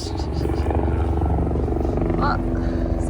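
A helicopter passes over a sunny beach, a steady loud rotor drone filling the whole clip with a faint wind-like hiss on top.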